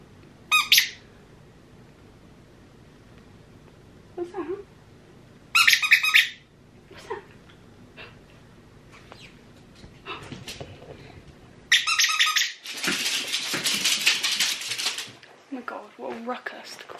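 A squeaky dog toy lets out loud, sharp squeaks in short bursts, including a longer squeaking run, with quieter gaps and a dog's faint whimpers between them.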